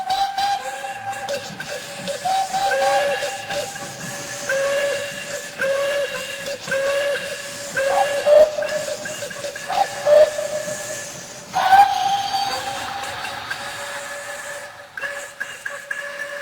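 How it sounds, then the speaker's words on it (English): A steam engine's whistle sounds again and again, shrill and sustained, with short overlapping blasts and hissing steam heard throughout and no voices. "But the rest of his speech was drowned in a delighted chorus of cheers and whistles."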